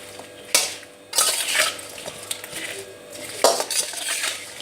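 Mango pickle (aam achar) is stirred through plenty of oil in a pot. Close metal spoon scrapes and clinks come in several bursts with quieter gaps between them, and there is no talking.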